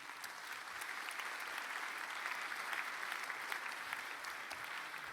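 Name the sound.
audience applause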